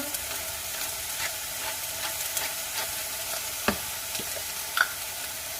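Lean ground beef fries in a pan with a steady, close sizzle while a utensil breaks it apart and stirs it, adding a few sharp scrapes and clicks against the pan, with no voices.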